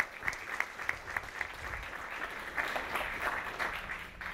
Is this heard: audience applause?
yes